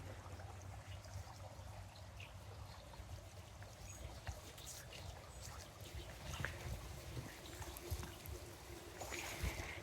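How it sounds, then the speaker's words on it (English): Water trickling in a secret garden near a bamboo section, a faint continuous babbling dribble with small splashy flickers, steady and fairly distant throughout. "And I can hear more water down here."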